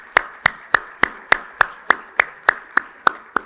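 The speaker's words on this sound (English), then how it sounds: "Let's give them a warm and resounding round of applause." Steady, evenly spaced claps ring out about three times per second at a debate competition final, sharp and close, each clap standing alone with almost no background.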